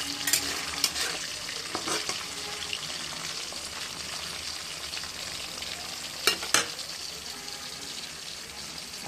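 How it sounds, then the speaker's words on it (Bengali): Potatoes and broad beans fry in a pan with a soft continuous sizzle and hiss, broken by a few sharp utensil clinks and scrapes, faint and close, with no talk. "আর আলু আর শিম ভাজা হচ্ছে"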